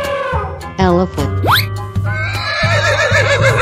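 A cartoon horse whinnies once, loud and close, in a children's animal painting cartoon, with steady background music playing under it.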